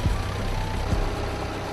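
A forklift stuck in mud has its engine started, giving a steady, close, low diesel rumble with a faint tonal whine throughout.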